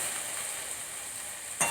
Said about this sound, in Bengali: আজকে করছি হচ্ছে ঢ্যাঁড়স পেঁয়াজ ভাজা।